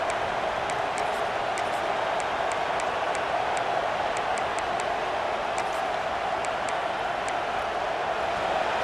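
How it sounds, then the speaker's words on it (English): Stadium crowd noise in College Football 26 video game, a steady broad roar filling the whole clip with faint ticking clicks on top, loud and continuous with no talk over it. "this crowd coming to life here, trying to help the defense get a stop"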